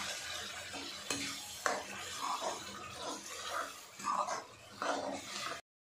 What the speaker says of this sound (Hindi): अब इसके अंदर हम टमाटर प्यूरी ऐड करेंगे, इसको भी 2 मिनट तक पकाएंगे मिडल आँच